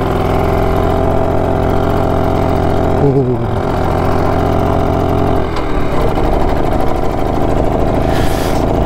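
BSA Bantam two-stroke motorcycle engine running loud and close, a rough, uneven idle with a brief rev change partway through, and a short voice exclaiming once over it.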